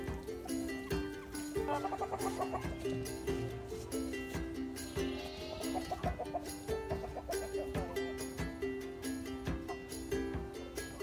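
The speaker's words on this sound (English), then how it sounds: "they just sit here and they twitter back and forth, moving their heads" Busy, overlapping chattering of Muscovy ducks, with soft clucks and murmurs going back and forth continuously at close range.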